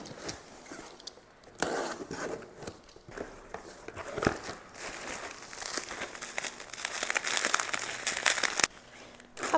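A parcel of nail-salon supplies is opened by hand, and its plastic packaging crinkles and rustles close up in quick, uneven bursts, with occasional tearing, and no one speaks.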